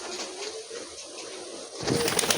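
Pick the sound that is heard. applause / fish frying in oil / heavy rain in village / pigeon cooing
pigeon cooing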